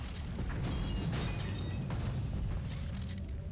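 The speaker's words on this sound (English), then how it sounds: "Well, big explosions." Big explosions in the video game Star Wars: The Old Republic, heard as a continuous rumbling barrage of booms and crackling debris at moderate loudness.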